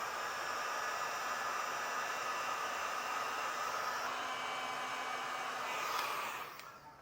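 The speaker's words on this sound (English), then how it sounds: "you just come back with a heat source and seal up the ends" A heat gun blows steadily to seal heat shrink butt connectors during trailer wiring on a 2021 Jeep, a soft, even hiss that fades out at the end.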